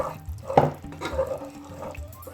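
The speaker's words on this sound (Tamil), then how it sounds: "நல்லா கொதிச்சிட்ருக்கு." A pot of water boils for sago, with irregular bubbling, gurgling pops and splashes close by and no talking.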